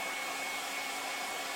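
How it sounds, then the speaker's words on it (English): Hair dryer blowing hot air to dry paint: a steady, loud broadband whoosh with a faint motor whine, continuous and unchanging throughout, with no voices. "But with the heat from the air dryer, we can see it drying like magic in front of our eyes."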